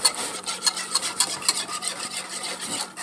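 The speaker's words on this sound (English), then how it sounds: "Continuously stirring" A cream roux is stirred continuously in a pot, the utensil scraping in a quick regular rhythm of close, soft rasping strokes.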